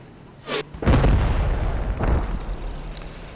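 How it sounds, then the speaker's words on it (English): Panther tank machine gun fire in a World War II video game, with a few heavy booming bursts followed by a rumbling tail and a faint sharp pop near the end, loud and with no talk. "he bleeds out from MG fire from the Panther"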